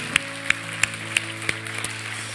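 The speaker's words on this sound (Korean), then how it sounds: "이 아름다운 약속을 주신 하나님 앞에 다시 한번 우리 감사의 박수 올려드리겠습니다" Church congregation clapping in slow, even rhythm, about three sharp claps per second, set against a low sustained musical hum.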